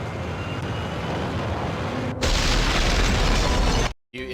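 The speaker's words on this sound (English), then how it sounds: "Interrupted by shotgun in face." Heavy shotgun blasts and gunfire in the Max Payne video game, dense loud booming noise that jumps in intensity halfway, then cuts to a brief silence before resuming.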